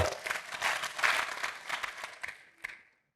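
A church congregation applauds steadily for a few seconds, claps thinning out before fading to silence.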